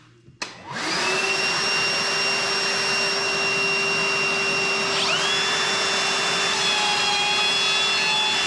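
A router fitted with a template guide starts up and cuts a mortise for knock-down joinery. The motor jumps from a click to a loud, steady high whine that stays near and constant, with a slight pitch change partway through.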